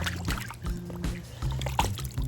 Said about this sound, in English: I'm gonna rinse it